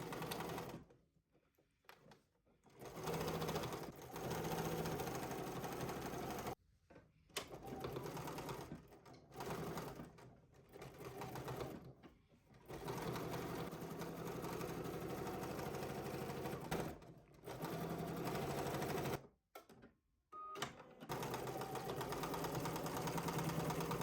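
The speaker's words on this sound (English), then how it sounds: "head over to the machine, and we're going to be stitching at 5/8 of an inch seam allowance" A sewing machine stitches a dress lining seam at 5/8 inch allowance, running in steady bursts of a few seconds each with short pauses between, moderately close.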